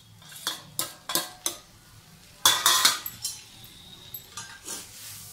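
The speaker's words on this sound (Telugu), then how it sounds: "ఇలా మనం రెండు గరిటలతో ఇలా కలపడం వలన పొడి పొడిగా వస్తుంది అన్నమాట." Poha with potato and cashews gets mixed in a pan with two ladles, giving sharp metallic clinks and scrapes in irregular bursts, with a denser cluster midway and quieter taps at the end.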